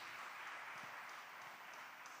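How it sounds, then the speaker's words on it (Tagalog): A church congregation at a Tuesday midweek service claps loudly for God, a dense, even wash of many hands applauding continuously at a distance. "Palakpakan natin ang malakas ng mahal na Panginoon. Malakas na palakpak po"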